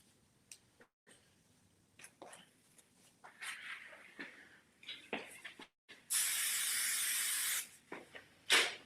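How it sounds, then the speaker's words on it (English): Hair session spray from an aerosol can, sprayed during hair styling in one loud continuous burst of about a second and a half, nearby. Short sprays and soft handling noises come before it. "You can see I love a bit of session spray."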